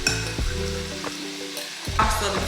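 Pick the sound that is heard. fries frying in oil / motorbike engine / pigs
fries frying in oil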